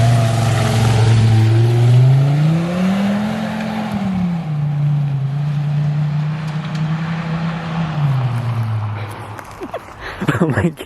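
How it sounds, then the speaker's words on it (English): Volkswagen Passat engine revving loudly in mud, heard from outside the car; the pitch climbs, dips and holds in a long sustained roar before fading, with people talking nearby near the end. "I've never realized how loud my car is actually from the outside."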